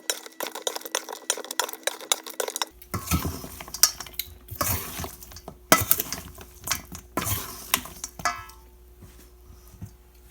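Baked cauliflower wings tossed in buffalo sauce in a bowl, with repeated close clinks and scrapes of a utensil against the dish and soft wet stirring, in irregular bursts with no talk.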